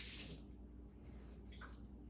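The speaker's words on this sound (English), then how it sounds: "So let me get some water here." Water is poured from a tap into a container for a baking-soda slime recipe, giving a brief, faint splashing trickle against a low background hum.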